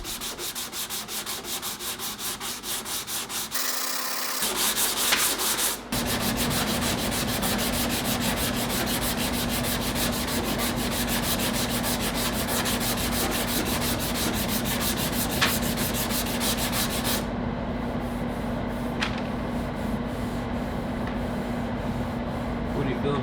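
A DA sander smooths a car's rusted rocker panel repair with 240 grit, a steady, loud, close whir of continuous abrasive rubbing that runs nearly unbroken, with a brief pause and a louder surge early on.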